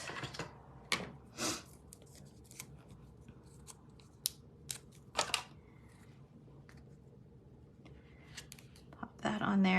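Scissors trim ribbon ends on a seaside-themed sympathy card, giving several sharp close snips spaced irregularly, separated by quiet handling and rustling noises.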